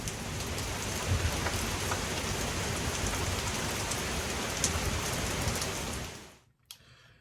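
Steady rain falls outside, heard from a covered deck of a wooden family treehouse. A dense, even patter carries on for several seconds, then cuts off near the end.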